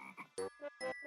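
Frog croaking sound effect in a comedy show, a quick run of four or five close, loud croaks in an uneven rhythm with short silences between them.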